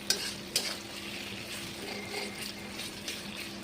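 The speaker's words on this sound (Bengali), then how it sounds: "টমেটোটা নরম না হওয়া পর্যন্ত ভাজতে হবে।" Tomatoes with a little salt frying in a pan while being stirred, soft sizzling with a few sharp scrapes and clicks of the spoon near the start and scattered stirring knocks throughout, fairly quiet and close.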